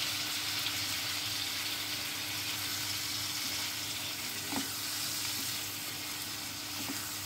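A paste of onion, ginger, garlic, green chilli, tomato, cashew and melon seeds fries with chicken for aamsatta chicken, producing a dense, continuous hiss of moderate loudness with a couple of faint utensil taps and no speech.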